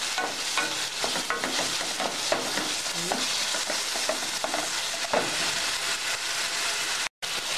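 Tomato stirred and fried in a pan for a quick fish stew, dense continuous sizzling with frequent scraping and clattering strokes of the utensil, close and moderately loud, briefly cutting out near the end.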